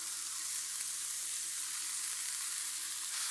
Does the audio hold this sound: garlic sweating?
yes